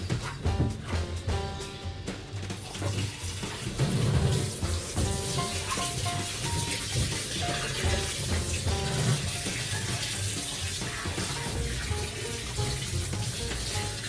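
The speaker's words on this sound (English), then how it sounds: "Let me add some water so I can rinse it." Water pouring into a small washing machine tub for rinsing, a continuous close splashing rush with clattering and knocking mixed in throughout.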